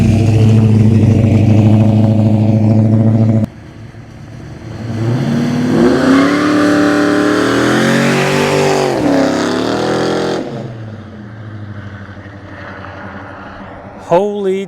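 A 1966 Plymouth Satellite with a 426 HEMI V8 idles with a deep rumble, then roars loudly up through the revs in a rising, accelerating sweep before easing off, with engine noise settling down afterward.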